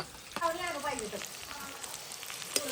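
Onion and chili frying in a pan give a steady, soft sizzle, with a brief voice sounding over it near the start.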